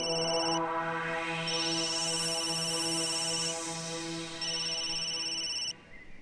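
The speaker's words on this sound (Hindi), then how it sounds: "बार बार क्यों फोन कर रही हो आरती?" A phone ringtone plays continuously, a bright repeating electronic melody with steady pulsing tones, loud and close, stopping abruptly near the end.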